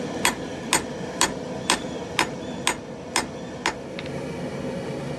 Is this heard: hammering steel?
yes